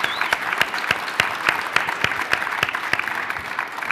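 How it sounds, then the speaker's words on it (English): Live audience at a Kentico Connection event clapping together, a loose round of applause with distinct sharp claps standing out over a softer bed of hands, moderately loud and steady throughout. "How about a round of applause with all of you in the audience here at Kentico"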